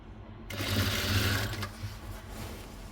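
A sewing machine stitches the folded hem of a bedsheet, starting suddenly and running as a close, rapid mechanical whir that slows and fades slightly toward the end.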